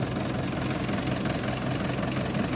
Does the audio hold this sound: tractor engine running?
yes